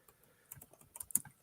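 Quiet, quick bursts of typing on a computer keyboard, a short run of irregular clicks and key taps up close, with no talking.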